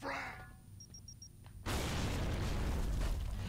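A frag grenade detonates in Gears of War with a sudden loud blast that turns into a sustained roaring rumble, after a brief quieter stretch with faint beeps.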